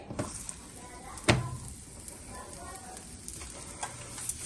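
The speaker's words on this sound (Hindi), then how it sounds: "फ्राई करने के लिए जो है तवे पे डाल देंगे" An aloo paratha frying on a tawa gives a quiet, steady sizzle with a sharp clatter near the start and a few light knocks, heard close and alone.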